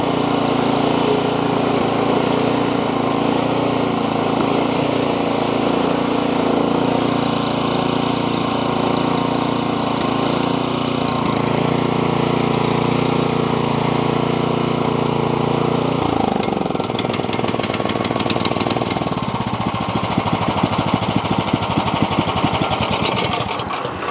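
An Ariens hydrostatic snow blower's engine runs at a steady, loud, close idle with a droning hum that shifts in pitch and turns rougher toward the end, with no talk.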